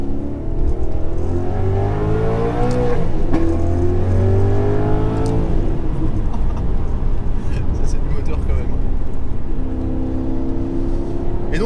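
Maserati GranTurismo Sport V8 revving and accelerating on the road, loud close engine note climbing through gears with a hard rise, a brief lift, then pulling again, with someone speaking over it.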